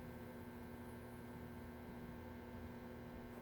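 The motor of a 1942 Zenith 7S685 radio-phono console record player runs with a steady low electrical hum, continuous and even, faint and unchanging with no voices.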